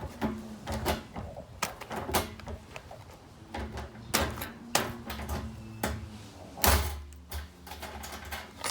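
A hand rivet gun is squeezed several times to set a rivet while building a composter, giving a series of irregular close metallic clacks and crunches.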